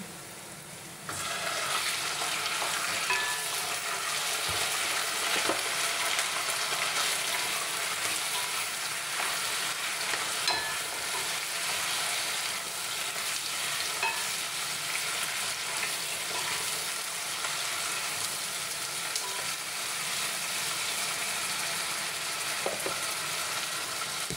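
Chicken fries in a pan with a steady, close sizzle that starts abruptly and holds evenly throughout, a continuous hiss with faint crackles and small clinks.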